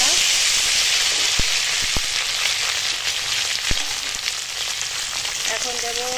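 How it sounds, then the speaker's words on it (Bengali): Dried red chilies sizzling in hot mustard oil in a wok, a steady loud crackling hiss throughout with a few sharp pops, close by. "এখানে কড়াই এই সর্ষের তেল দিয়ে শুকনো লঙ্কা ফোড়ন দিয়েছি"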